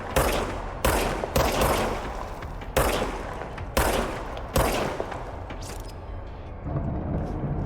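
Gunfire from the Service Weapon in the video game Control: five or six loud, sharp shots at uneven intervals, each with a decaying tail, then quieter background sound.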